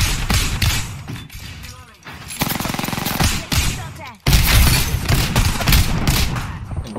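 Heavy video game gunfire in a looting shooter, loud close bursts of rapid shots with brief gaps and a sharp resumption halfway, continuous and dense, with talk faintly underneath.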